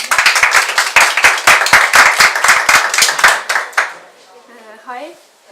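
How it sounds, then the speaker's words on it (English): Applause at a conference presentation on the Work in Estonia program, as the audience welcomes a speaker. Loud, close clapping with sharp individual claps fades out after a few seconds, and a voice begins speaking. "let's make a round of applause"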